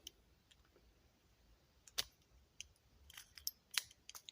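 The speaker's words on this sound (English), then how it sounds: "To unload, we come here, 2 clicks, open the gate, push." A Heritage Rough Rider .22 revolver being unloaded gives sharp metallic clicks, a lone snap near two seconds and a tight cluster of clicks toward the end, close up and quiet with no talk.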